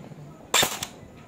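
An upgraded ENC 909 SR25 airsoft rifle fires a single sharp, close shot with a brief mechanical snap, loud against a quiet background.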